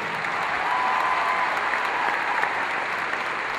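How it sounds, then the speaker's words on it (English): An arena audience at a gymnastics event applauds loudly and steadily, a continuous dense clapping with no voices standing out. "let's give a big round of applause"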